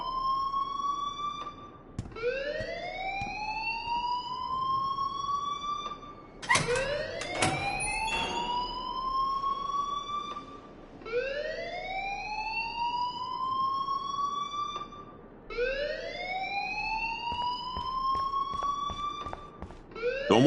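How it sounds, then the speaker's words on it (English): A wailing school alarm from the video game Life is Strange rises and cycles repeatedly, loud and steady throughout, with brief clattering noises partway through and no talking. "please turn off that alarm since that's your job."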